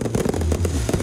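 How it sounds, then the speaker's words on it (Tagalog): Fireworks at a Pampanga Christmas pyro-musical show near a Ferris wheel with on-ground pyrotechnics, giving a quick rapid crackle of bursts packed into one loud, close second. "May on-ground fireworks at pailaw din na lumalabas mismo sa Ferris wheel."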